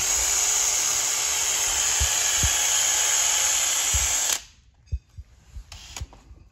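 A high-pitched rotary power tool whines continuously while slotting a hole in a 650SX hull extension, with a few dull bumps beneath, then cuts off abruptly and is followed by scattered handling knocks.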